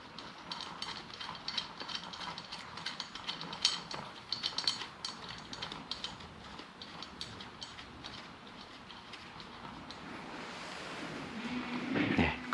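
A ratchet tightens bolts on a 25P pressure reducing valve, giving quiet, close rapid clicking in uneven bursts, with a faint rattle and handling noise near the end.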